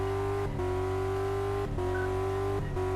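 A car doing donuts in Car Mechanic Simulator 2014, a sustained steady engine tone broken by brief dips about once a second, suggesting repeated loops, with no voices.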